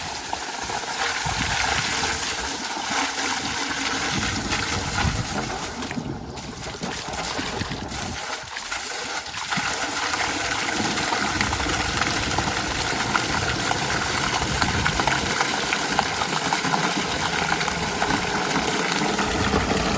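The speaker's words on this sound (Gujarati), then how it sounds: "હવે આપણે ટાંકી ભરી લઈએ." Water rushes steadily into a farm tank on an organic vegetable plot, a continuous broadband pouring and churning with a low pump-like rumble underneath, loud and close for the whole stretch with no talking.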